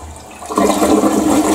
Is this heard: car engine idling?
no